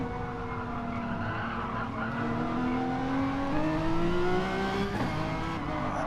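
Nissan and Renault touring cars race at the Nurburgring in a racing video game, their engines droning steadily and rising in pitch as they accelerate together, with a sharp transient near the end.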